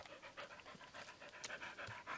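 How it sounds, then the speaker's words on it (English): A dog pants in quick, steady breaths nearby, soft and continuous with no other sounds over it. "you can probably hear the dog panting in the background"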